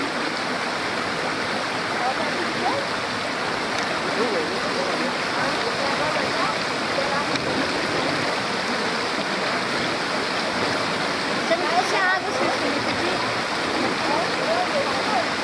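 Water flows steadily in a stream outdoors in the rain, a continuous broadband rush that stays even throughout, with some voices faintly in the background.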